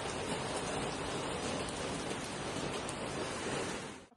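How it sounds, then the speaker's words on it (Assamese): Steady, dense rain pours down continuously at close range during a midday downpour in a rural village, a broad even hiss with no talk, fading out abruptly at the very end. "বৰষুণ"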